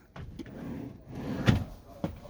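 Kitchen drawers in a Mobilvetta Design P86 Krosser motorhome opened and shut, giving a few short, close sliding knocks and clunks with quiet pauses between.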